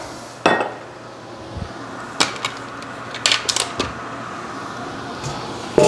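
A mixing bowl handled in a kitchen while making olive tapenade: a few sharp clinks and knocks scattered over several seconds, with a faint steady hum underneath and no talking.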